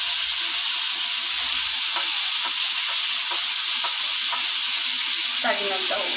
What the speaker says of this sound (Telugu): ఆలుగడ్డ వేసుకున్న తర్వాత బాగా కలుపుకోవాలి.